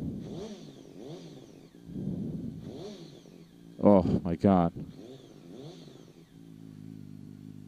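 A Yamaha R1 sport motorcycle engine with an aftermarket exhaust revs sharply in two quick bursts, then settles back to a rumbling idle while people talk nearby.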